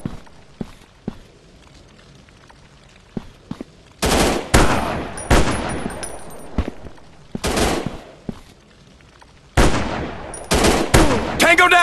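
Gunfire in a mobile first-person shooter game: bursts of rapid automatic fire and single loud shots, near and punchy, separated by quieter stretches with light footsteps and small clicks.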